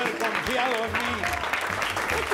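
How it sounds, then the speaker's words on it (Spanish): A crowd applauds the winner, señor Wiralde, in a rush of dense clapping that runs throughout while voices and music continue on top of it. "Un aplauso al señor Wiralde."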